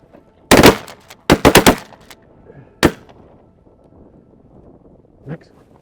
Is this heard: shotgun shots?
yes